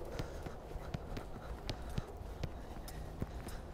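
A horse's hooves clip-clop in a steady, regular rhythm during a riding exercise meant to build its carrying muscles, each strike crisp but fairly quiet and somewhat distant, with no talking.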